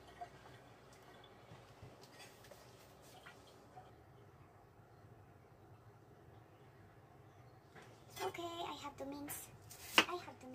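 A knife mincing onion on a chopping board while preparing minced fish omelette: faint, scattered taps at first, then a louder run of quick, rhythmic chops near the end.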